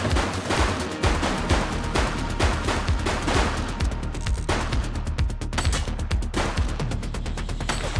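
Dense, continuous volley of gunshots in the police game The Precinct, rapid overlapping reports at steady high loudness with no pause across the whole stretch.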